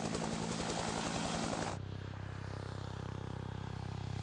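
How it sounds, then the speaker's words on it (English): A helicopter's main rotor wake beats against its tail rotor, making a loud, dense, continuous roar that abruptly drops to a lower, steadier drone partway through. "Often the first thing you hear from a helicopter is the sound of the wake from the main rotor hitting"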